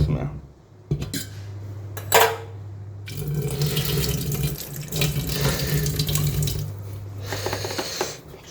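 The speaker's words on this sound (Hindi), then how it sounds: "तो पानी चला देता हूँ इसमें।" Tap water runs steadily into a pan in a home kitchen sink, with dishes and cutlery clattering alongside and a steady hum beneath, the flow pausing briefly and starting again.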